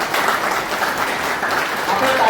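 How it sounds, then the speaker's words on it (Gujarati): Loud, sustained applause from members at a Lions Club general meeting in Nadiad, welcoming the incoming club president; a dense, even wash of clapping fills the whole stretch without pause. "પ્રમુખ એમના માટે તાળીઓ થઈ જાય"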